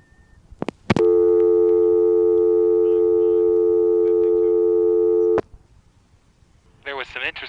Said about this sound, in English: There was some interesting crosstalk on that dial tone.